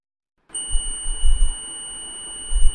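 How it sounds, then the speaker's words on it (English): A steady electronic continuity beep from a multimeter starts abruptly after a short silence and holds unbroken to the end, with a low rumble of handling noise underneath. "So we are getting a beep over here, which means there is continuity."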